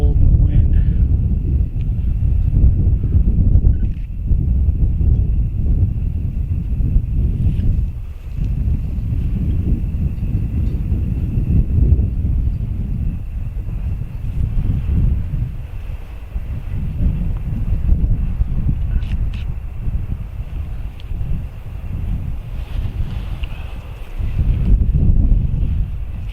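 Cold wind blowing at night through Easton Cemetery, a steady low rumble and buffeting on the microphone that swells and dips throughout with brief lulls, faint hiss above.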